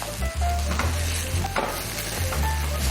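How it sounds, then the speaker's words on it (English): Chili stir-fried in a hot pan sizzles loudly and steadily for the whole stretch, with scraping stir strokes cutting through now and then and no voices. "Give it a nice stir."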